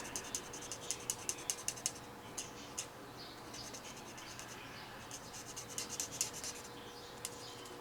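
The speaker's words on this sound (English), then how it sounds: "I'm coloring, just putting down color on the whole thing." An alcohol ink marker colors a paper card with soft, quick scratchy strokes, a faint, close-up string of repeated dabs and swipes in an otherwise quiet room.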